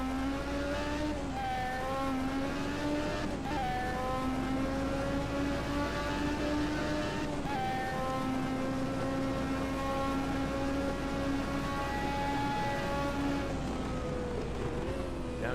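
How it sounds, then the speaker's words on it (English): A 1986 Formula 1 car in a racing video game, its high-pitched engine holding a steady loud whine, dipping with quick downshifts a few times before climbing again. "Downshifting now for Parabolic, and he's definitely a lot closer now."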